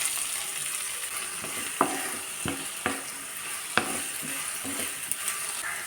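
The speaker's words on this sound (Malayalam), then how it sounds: "ഇതിലേക്ക് 1/2 ടീസ്പൂൺ പെരിഞ്ജീരകം, 2 സവാള പൊടിയായി അരിഞ്ഞത്," Fennel seeds and finely chopped onions frying in oil for a cauliflower roast: a soft, steady sizzle broken by sharp clicks of a spoon stirring against the pan, no talk.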